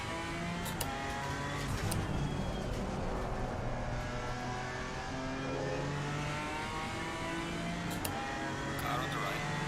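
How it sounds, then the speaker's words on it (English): Race cars in a British GT racing video game roar and rev continuously, with several engines passing close by in a dense, steady drone, and a voice talks over them. "Faster car coming up behind you."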